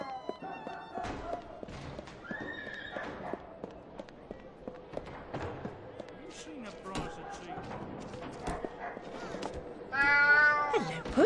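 A cat meows several times in the video game Alice: Madness Returns, short cries scattered between thuds, footsteps and game effects, with a louder burst of sound near the end.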